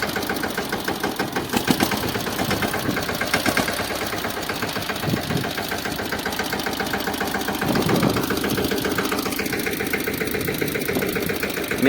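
A tractor engine runs in a cleared millet field with a close, steady, knocking diesel rumble. The pulsing stays throughout, with a brief surge in load near the end.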